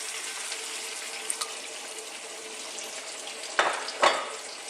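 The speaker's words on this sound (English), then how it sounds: "I'm now going to get some water in there." Water being poured into a pot of beef stew, a steady hissing splash with a couple of louder bursts near the end, close by.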